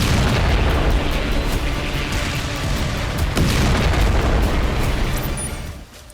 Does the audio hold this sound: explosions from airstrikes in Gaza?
yes